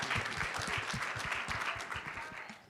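Audience applause at a political party meeting on becoming a convention delegate, a dense steady patter of many hands with low voices murmuring underneath, holding fairly level before tapering slightly.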